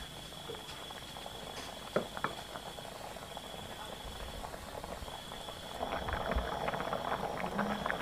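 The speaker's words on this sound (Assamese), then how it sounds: "এইখিনি ধুনীয়াকৈ এটা উতলি আছে" A pot of rice pudding made with joha rice boils steadily, a soft continuous bubbling and popping that grows louder toward the end, with a faint high tone running through it.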